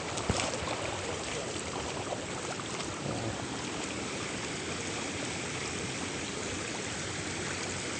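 Water overflowing from a fishpond runs as a steady, loud rush and trickle, like a small stream, continuous and close throughout with no talk.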